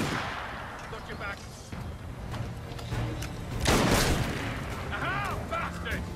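Gunfire in Assassin's Creed, with scattered shots and a loud booming blast near the middle that rolls out over game noise, while a voice talks in the background.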